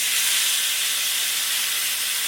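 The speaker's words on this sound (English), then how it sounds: "that's the music you want to hear when you lay a steak down" Steady, loud broadband sizzling hiss of a steak laid on a cast iron grill plate, constant and close, with no talking over it.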